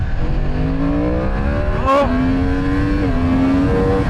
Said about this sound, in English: So we'll go down to first gear and we'll give it a bit of a handful.